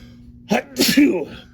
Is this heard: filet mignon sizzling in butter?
no